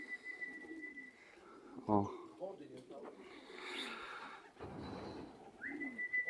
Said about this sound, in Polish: Gołębie pięknie przylatują.